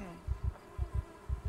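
Flies in the video game Project Zomboid give off a low, pulsing buzz in paired bursts that repeat steadily, faint and close, with a soft hum underneath.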